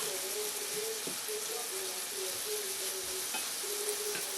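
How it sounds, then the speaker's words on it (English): Food being stirred in a hot pan for chicken carbonara meatloaf gives a steady, even sizzle throughout, with light scraping stirs and a few soft utensil taps close by. "Just going to keep stirring it, letting the heat do its job."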